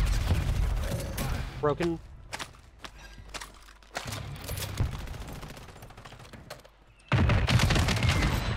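Shooter video game gunfire, with bursts of shots and heavy impacts scattered across the clip and a loud sustained volley near the end, while players talk over the action.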